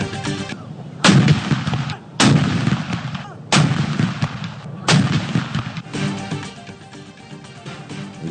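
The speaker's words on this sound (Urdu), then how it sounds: "اسلام آباد میں 31 اور صوبائی دارالحکومتوں میں 21 توپوں کی سلامی" Artillery guns fire a ceremonial Pakistan Day salute: a series of heavy booms about a second apart, each ringing out and fading before the next, with no talk.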